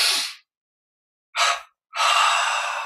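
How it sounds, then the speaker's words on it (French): Sharp breaths during guided meditation: a quick intake, a pause, then a double inhalation with a short sniff followed by a longer, steady draw of air, close and breathy. "double inspire"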